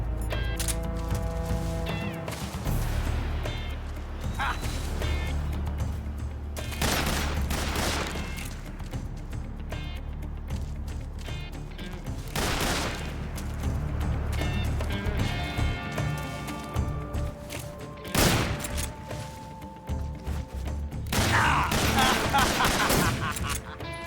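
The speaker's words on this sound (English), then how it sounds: "Let's shoot it out some more." Gunfire shoot-out in Metal Gear Solid 3 Snake Eater with a revolver: repeated loud shots and volleys over a sustained musical score and rumble, with some running footsteps and a brief spoken line.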